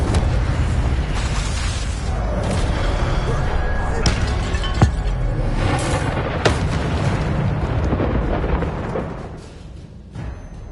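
An Incendio fire spell cast in Hogwarts Legacy sets off dense, loud booming blasts and rumble that run steadily through the clip, with a few sharp cracks, before thinning out toward the end.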